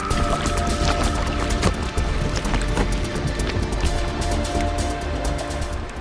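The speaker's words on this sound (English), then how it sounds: "The sound of bubbles popping, the sound of ice grinding against itself." Dense crackling and popping of bubbles with low grinding of ice fills an ice-choked Antarctic cove, a steady close wash of fizzing texture with no voices.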